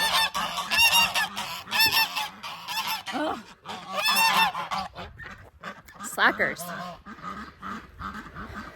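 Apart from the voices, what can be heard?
geese honking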